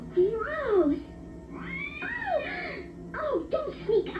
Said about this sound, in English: Oh, don't sneak up on me, kitty.